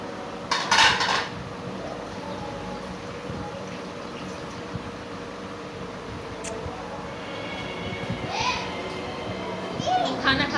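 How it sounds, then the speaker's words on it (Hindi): Dishes, pots and cutlery being washed in a home kitchen, with steady clinks and scrapes of metal and crockery over running background noise, plus brief louder clatters and faint voices of children nearby. "धो रही है बर्तन"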